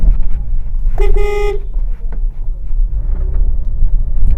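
A car horn gives one short, loud toot over a steady engine rumble inside a vehicle being driven one-handed.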